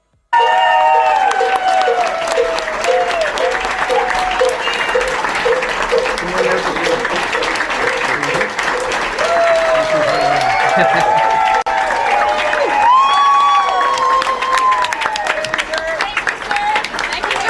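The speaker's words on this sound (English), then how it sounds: "they're all clapping for this guy like he did something historic" A crowd gives sustained applause for a former Attorney General, with scattered cheers and a voice speaking over the clapping throughout.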